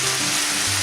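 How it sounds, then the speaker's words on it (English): Steak pieces sizzling loudly in a frying pan, a dense, continuous crackling hiss heard close up with no talking. "Is that sizzling quite well?"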